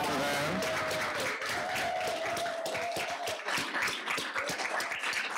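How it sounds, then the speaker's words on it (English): An audience at a spoken word event claps for performers' family members, dense applause with a voice calling out over it early on, thinning into scattered individual claps toward the end. "Clap it up for them."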